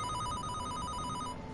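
A telephone rings in a video game, a steady electronic trill held for over a second before cutting off, loud over a busy background.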